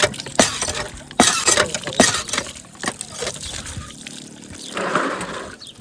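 Stagnant water gushes and splashes out of an air cooler as it runs briefly, with irregular sloshing, dribbling and sharp clattering knocks close by.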